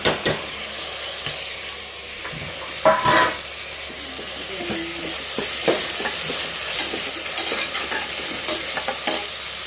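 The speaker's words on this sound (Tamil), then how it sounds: "டொமேட்டோவை நல்லா வதக்கி விட்டுக்கலாம்." Chopped tomatoes sauté in a hot pan for a chicken biryani, a steady close sizzle running throughout with scraping stirs and a few louder clanks of the spoon against the pot.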